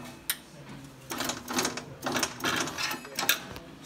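An Atlas Traps AT-250 clay target trap, its cable just replaced, swings its throwing arm around, giving a rhythmic mechanical clatter and whir in repeated close bursts over a quiet background, with no talking.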